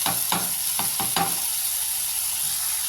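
Brinjal frying in a pan for a dry fish curry: a steady hiss of oil with several sharp clattering stirs near the start, settling into continuous sizzling with no voices.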